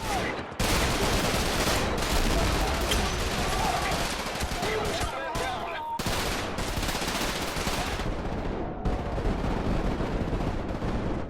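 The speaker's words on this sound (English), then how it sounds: "That scene where you're going down the monument and you just hear all the gunfire above you" Heavy gunfire from the video game Trepang rattles almost without pause: dense automatic bursts and overlapping shots, loud and chaotic, with brief gaps and faint voice-like fragments mixed in.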